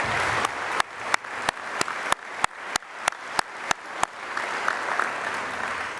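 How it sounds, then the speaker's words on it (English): Audience applause at the AQHA membership general meeting, a steady wash of clapping punctuated by a dozen loud, evenly spaced sharp claps close by, then settling into dense, continuous applause from the crowd. "Let's give them all a big round of applause."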